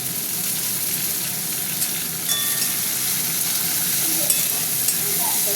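Chopped tomato goes into a pan of thinly sliced frying onions for a picnic meal, raising a steady hiss of sizzling oil with occasional stirring scrapes and small pops throughout.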